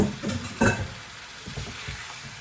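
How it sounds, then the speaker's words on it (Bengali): Fatty beef fries in a pan with a steady, soft hiss of sizzling and a few louder spits and clatters near the start. "মাংসগুলি সব দিয়ে দিলাম এখন এটাকে কষিয়ে নিব"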